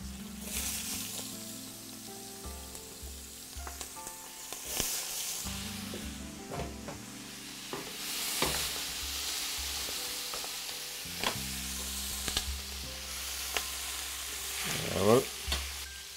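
Vegetables sizzle and fry in a hot pan beside braised goose breast, a steady crackling hiss with occasional stirring and scraping clatter and no talking.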